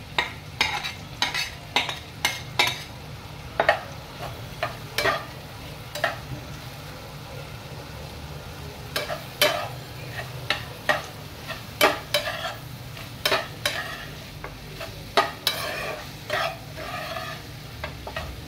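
Chopped okra fries in a pan while a spatula stirs it, repeated sharp scraping strokes over a steady close sizzle.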